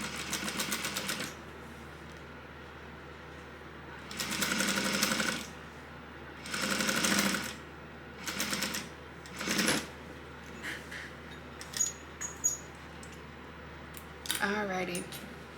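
Sewing machine top stitching the last card slot on a small wallet: several short motor bursts of a second or so each with pauses between, followed by lighter fabric handling clicks and rustles near the end, close-up.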